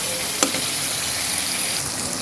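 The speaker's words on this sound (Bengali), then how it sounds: "তারপরে আমি আর একটু ভালোভাবে কষাবো এটাকে।" Spice masala with onions sautés in hot oil in a dense, continuous sizzle that stays loud and even throughout, with one brief knock of a utensil near the start.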